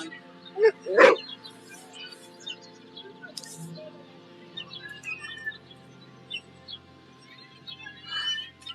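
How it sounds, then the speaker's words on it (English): A single sharp dog bark stands out early, near and loud, with faint bird chirps scattered through otherwise quiet surroundings. "Look at the cute dog."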